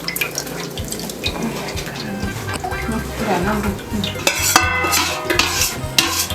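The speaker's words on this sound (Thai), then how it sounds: "เทน้ำเข้าใส่ในหม้อลงไปเลยเนาะ" Water poured into a cooking pot in a home kitchen, a steady splashing and gurgling with utensil clinks and stirring, under nearby talk.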